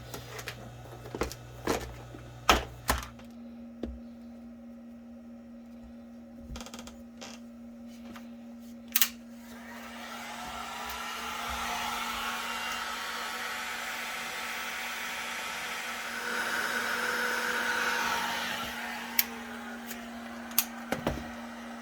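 Heat gun shrinking heat shrink tubing on a wiring connector for a 1974 Ford F100 harness, heard as a steady blowing whir that rises and holds after scattered handling clicks and knocks.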